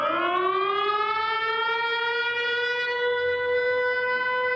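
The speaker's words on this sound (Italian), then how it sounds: "Le sirene antiaeree ucraine risuonano alla Biennale" Ukrainian air raid sirens wail at the Venice Biennale, a loud sustained rising tone that holds steady and slowly falls, sounding alone without talk.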